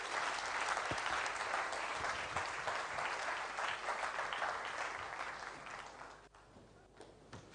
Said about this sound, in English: Let's put our hands together as he comes.